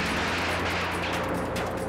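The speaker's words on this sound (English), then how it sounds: "There is the explosion." A dense, loud burst of explosive rumble and crackling roar from a bomb dropped by a police helicopter onto a compound in Philadelphia fills the whole moment, sounding distant yet powerful, with no voices.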